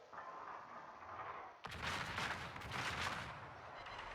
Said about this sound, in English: our hero is able to just rain down HE shells onto the deck of the Musashi